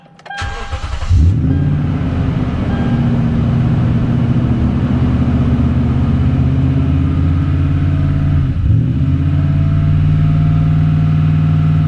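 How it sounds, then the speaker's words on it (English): A Toyota Tundra pickup, which had been in limp mode, starts up with a brief crank and settles into a loud, close idle, with one quick throttle surge and dip partway through and no talking. "I did get that one weird throttle surge."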